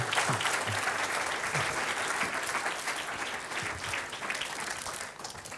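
An audience at a corporate storytelling evening applauds the performers with sustained, dense clapping from many people, a continuous even roar of hands that holds steady throughout before easing slightly at the end.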